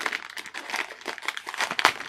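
Plastic bag packaging around unopened Syma X3 quadcopter spare parts crinkles and rustles continuously, close up and fairly loud, with a sharper crackle near the end.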